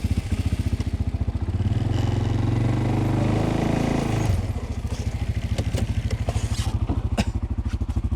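Tracked ATV reversing across ice, its engine loud and close with a rapid pulsing throb that swells briefly, then settles back into a steady beat with faint clatter and scraping from the tracks.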